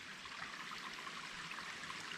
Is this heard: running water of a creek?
yes